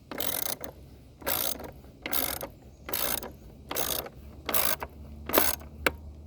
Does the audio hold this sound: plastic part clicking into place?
yes